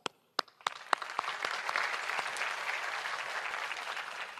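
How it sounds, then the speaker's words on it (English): Audience applause at a 2015 high school graduation ceremony for a girls' school, opening with a few sharp separate claps that quickly swell into steady, dense clapping from a large crowd sustained to the end. "please join me in applause to show your gratitude and appreciation"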